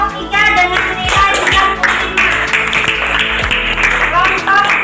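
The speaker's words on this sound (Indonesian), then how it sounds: "Beri tepuk tangan untuk kelompok 3" Classroom applause for a student group, a dense burst of many hands clapping close by and loud, mixed with voices talking throughout.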